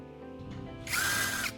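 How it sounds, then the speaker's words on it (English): A power drill with a cone-shaped bit whirs up briefly into a plastic charger casing, a close, high-pitched motor whine lasting about half a second against quiet background hum. "I'm taking a drill with a cone-shaped bit and carefully drilling a hole into one end of the charger casing"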